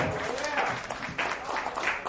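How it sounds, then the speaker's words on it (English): Audience applause for a comedian at a dive bar comedy show, a steady wash of clapping from a small crowd lasting the whole moment, with voices mixed in. "put your hands together for Mr. C!"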